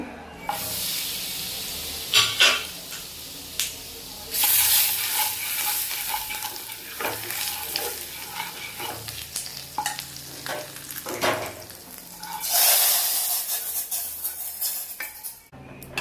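Spices fry in two spoons of oil for a spicy Maharashtrian chicken rassa, a loud hissing sizzle that swells in bursts, with stirring scrapes and occasional clinks of a utensil against the pan.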